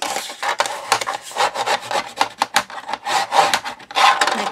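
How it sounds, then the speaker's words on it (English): Paper folds for a memory book being burnished with a tool, a dry scraping rub repeated in quick strokes, fairly close and alone without talk. "fold them over and give them a good score down, and just burnish them"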